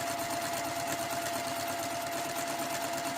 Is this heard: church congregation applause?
no